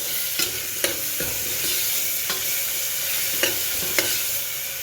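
Capsicum, spring onion, carrot and cabbage stir-fried over a high flame, with a steady loud sizzle and repeated sharp scrapes and clanks of a spatula against the pan at irregular intervals.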